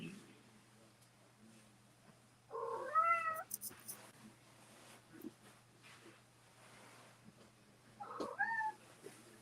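A cat gives two separate meows, a longer wavering one early on and a shorter one near the end, close and clear against a quiet, faintly humming room.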